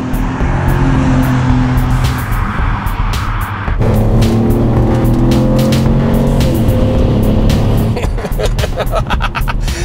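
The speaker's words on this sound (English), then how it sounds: "You really feel the power come in strongly at the top of the rev range" A BMW E46 330ci with an automatic gearbox revs hard on a back road, its engine note loud and continuous throughout, rising and shifting in pitch as it climbs through the rev range.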